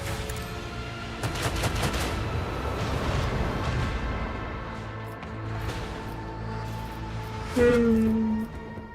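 Dense, sustained gunfire salvo from a warship battle in the Warhammer 40K Rogue Trader video game, rumbling bursts layered over a constant low drone, with a sharp tonal blast near the end.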